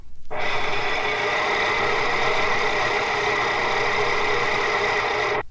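An industrial gear drive running at 2000 RPM gives a steady, loud, dense mechanical whine with strong tonal bands, starting abruptly and cutting off cleanly after about five seconds.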